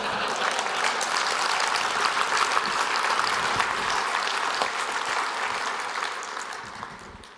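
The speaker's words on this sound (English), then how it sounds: "If I'm going to get applause, we're going to do it the right way." Keynote audience in Las Vegas bursts into sustained, dense applause that fills the hall at steady loudness for several seconds, tapering slightly toward the end.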